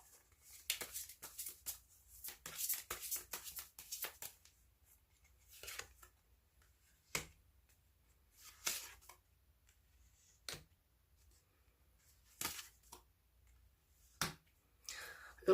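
Close, soft card sounds as fortune cards are shuffled and drawn: papery riffles and flicks in short bursts, then single crisp snaps spaced apart, with faint quiet speech in between.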